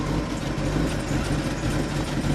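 A 1966 Buick Riviera GS's 425 V8 with factory dual quads and dual exhaust idles steadily up close, a low rumbling drone with an even throb and no voices over it.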